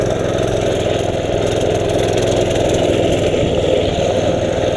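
A mini bike's small engine runs steadily for the whole stretch, a loud, continuous low-mid drone with a slight irregular chug and no clear revving, heard close and alone.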